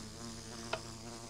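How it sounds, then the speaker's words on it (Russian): Ambient buzzing of a Minecraft bee flying about while gathering pollen, a steady low insect drone with a faint rippling hum, heard alone at low level with one brief click partway through. "Когда пчела летает и собирает пыльцу, она издает вот такой вот звук."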